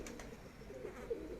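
Pigeons of a kept breed coo softly in a low, throaty murmur with a few brief rising notes, close by against quiet background noise.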